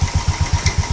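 A Royal Enfield Standard motorcycle engine fires up and runs with a loud, close, even thumping pulse, about eight beats in one second.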